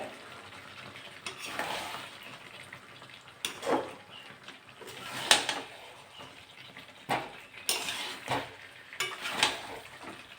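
Chicken and potatoes stir-fried with spices in a pan, giving a quiet frying sizzle broken by irregular scraping and clinking of a spatula against the pan, close by with no talk.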